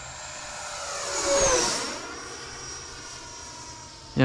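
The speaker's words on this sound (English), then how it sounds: "this jet is just so smooth when there's no wind" An E-Flite Viper 90mm RC jet flies past over a field in calm, windless sunset conditions, its whine rising to a peak and then falling away as it passes, clear and alone.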